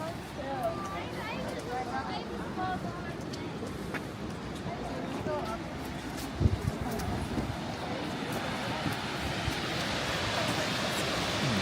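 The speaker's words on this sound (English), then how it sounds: "The waterfall is stunning." A waterfall at a Disney theme park pours in a continuous broadband rush, steady and close, with people talking over it throughout.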